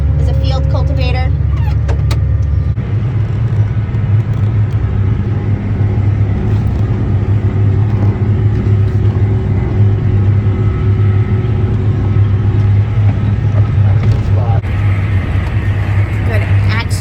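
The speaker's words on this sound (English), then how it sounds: "The red piece of equipment that's closest to us is a field cultivator." A tractor pulls a red field cultivator across a rough, bumpy field, its steady engine drone and rumble continuous and close, with a voice talking over it throughout.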